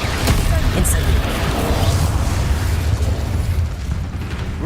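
Incendio fire spell cast in Hogwarts Legacy, a loud sustained roaring blast with a low rumbling burst and crackle that holds steady then eases slightly.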